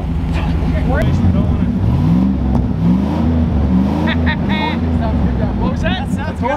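A Rolls-Royce 6.75-litre V8 runs in a backyard with a steady deep rumble, close and loud, its pitch rising and falling slightly as it revs, while people talk over it.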